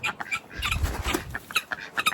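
Several chickens cluck and chatter close by in short irregular bursts, soft and busy.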